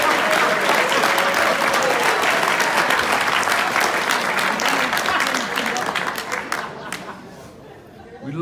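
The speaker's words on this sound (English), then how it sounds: "give an awesome round of applause to the ladies in the room" A comedy-show audience gives loud, sustained applause with cheers and crowd chatter mixed in, tapering off toward the end.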